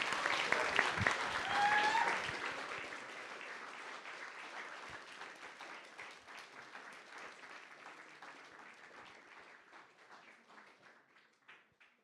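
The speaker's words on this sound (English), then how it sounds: "Let's give them another round of applause." Applause at a Sunday church service at a Peace Embassy, starting with a few cheers and dense clapping, then thinning into scattered, tapering claps as the crowd winds down over about twelve seconds.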